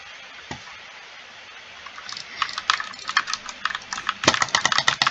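Keys clack on an orange RK61 mechanical keyboard. After a quiet start, typing begins in scattered strokes and builds to a dense, close, crisp run near the end.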